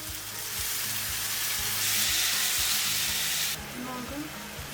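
Tomato goes into a hot pan and fries, giving a loud steady sizzle with a few knocks of the pan and utensil, and the hiss eases near the end.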